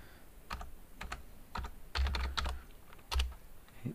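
Quiet, close keystrokes on a computer keyboard typing a short command in AutoCAD, a quick uneven run of clicks with a few heavier presses.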